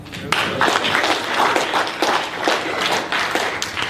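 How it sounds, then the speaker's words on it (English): An audience at a talk on police terrorism clapping: a steady crowd of hands applauding together, close and fairly loud throughout with no pause. "Clap your hands if you're African."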